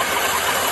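Engine of a 1930 Ford Model A running at low RPM, a steady, close, rough mechanical drone with a hissy, buzzing texture and no pauses.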